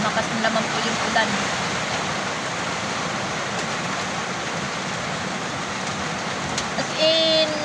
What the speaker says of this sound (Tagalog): Yan, lumakas naman po yung ulan.